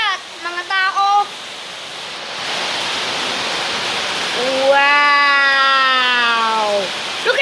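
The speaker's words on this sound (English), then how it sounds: "Look at that thick rain, man!" Heavy, thick tropical rain pours in a steady, loud hiss that swells slightly midway, while excited voices speak over it at the start and again near the end.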